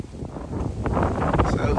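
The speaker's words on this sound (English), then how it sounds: "It's really windy here." Wind gusts buffet the microphone outdoors at The Swan with Two Nicks pub near Dunham Massey, a low, rumbling roar that swells steadily, with a voice partly buried beneath it.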